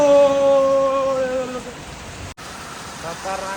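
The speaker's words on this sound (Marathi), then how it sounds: "कसला पाऊस चालू झालाय भारी" Rain falls as a steady hiss. Brief tonal sounds are heard early on before fading, leaving a continuous wash of rain with a short dropout partway through.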